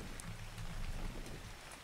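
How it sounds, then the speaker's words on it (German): Steady rain in the video game ARK: Survival Evolved (Ragnarok map) pattering on a surface, a dense, even hiss with soft low rumbling underneath, no voices. "Es regnet."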